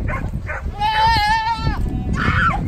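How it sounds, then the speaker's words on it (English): A goat bleats loudly and close by in a goat-roping event, giving a long wavering cry and then a shorter second bleat, with people talking and noise from the crowd around it. "We're going to let go of the goat."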